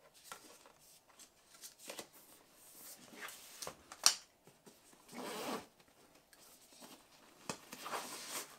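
Quiet, brief zipping and rustling from the front zipper pocket of a DJI drone shoulder bag, in short scattered bursts with soft handling noises between them.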